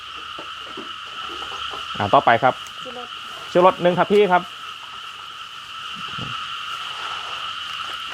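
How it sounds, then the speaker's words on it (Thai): Frogs call at night through steady insect-like trilling bands, with a few loud croak bursts around two and four seconds; someone talks over it. "จะได้ยินเสียงกบเสียงเขียด"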